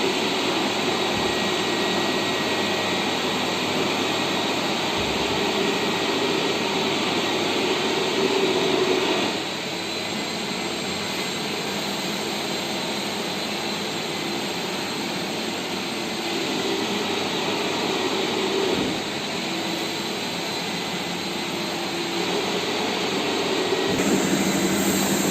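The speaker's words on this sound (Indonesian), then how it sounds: "Pertama kita nyalakan mesinnya, kemudian sikatnya dan airnya dihidupkan." A Tennant 1200 carpet extractor runs with its brush and water switched on, a loud, steady high-pitched motor whine and rushing hum that holds nearly constant, with a few brief dips.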